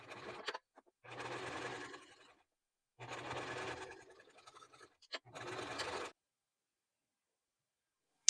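Sewing machine stitching the corners of a quilted pencil case, running in three or four bursts of a second or more each, close and clear, with short pauses between runs and silence at the end.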